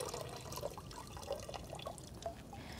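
Water drains from a Phalaenopsis moth orchid with potting media of charcoal after soaking, trickling and dripping faintly in small, irregular drops close by.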